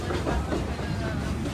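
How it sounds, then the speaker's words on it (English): A tourist train ride into the Devil's Throat area at Iguazu Falls, a steady low rumbling roll of the carriages with faint rhythmic clatter, close and continuous over the short span, with some voices mixed in. "A Disney-like train ride brings you into the Devil's Throat area at Iguazu Falls."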